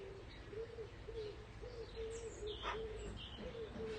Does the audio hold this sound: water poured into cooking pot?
no